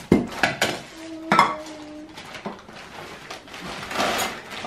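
Small, fairly heavy cups, the kind used for serving children milk, clink and knock together as they are handled and unpacked, with several sharp near rattles and scrapes at irregular intervals and no talking.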